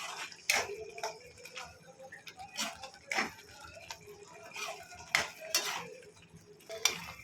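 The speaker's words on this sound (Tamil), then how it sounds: "தேங்காய் சேர்த்து இதில் நல்லா மிக்ஸ் பண்ணிக்கலாம்" A spoon scrapes and taps against a pan as grated coconut is mixed into a banana sweet, giving faint, irregular metallic clinks and scraping strokes over a quiet background.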